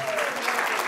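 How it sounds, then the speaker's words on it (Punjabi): Brief burst of steady applause from a charity dinner and dance audience, dense clapping at moderate distance. "ਇੱਕ ਵਾਰ ਜ਼ੋਰਦਾਰ ਤਾੜੀਆਂ"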